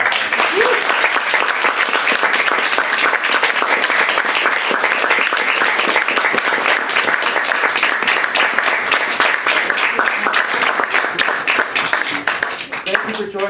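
A room full of listeners applauds the poets after a hybrid poetry reading, dense, even clapping sustained at full strength for over ten seconds before thinning slightly near the end.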